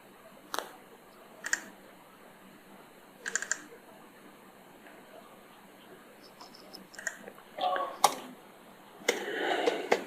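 Computer keyboard typed in short, sparse bursts of close clicking with quiet pauses between, ending in a denser run of keystrokes while entering database login details.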